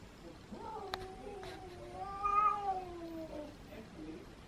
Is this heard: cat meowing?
yes